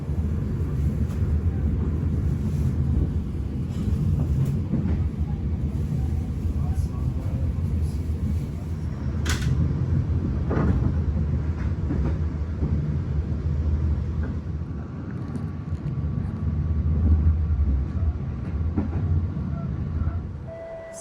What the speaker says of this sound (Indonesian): Kereta api Pasundan yang saya naiki sudah tiba di stasiun Cipendei.